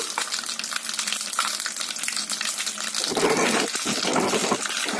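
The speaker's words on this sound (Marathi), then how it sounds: "कडक तेल गरम झालं तरच आपण त्याच्यामध्ये अशी मोहरी ते टाकायची." Mustard seeds hit hot oil and crackle in a dense, steady frying sizzle up close, growing slightly louder and busier partway through with no talking.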